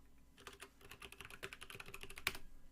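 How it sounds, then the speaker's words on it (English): Rapid typing on a computer keyboard, a quick uneven patter of key clicks close by with one sharper tap near the end. "you can hear my keyboard"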